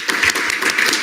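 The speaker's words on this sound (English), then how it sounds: "I think APIA Heritage Month should get a little clap" Brief scattered clapping from an audience at a student government senate meeting, a quick patter of overlapping hand claps lasting about a second, fairly close and moderately loud.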